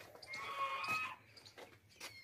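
Goat at a livestock sale, letting out one fairly faint wavering bleat followed by a few softer calls against a quiet background.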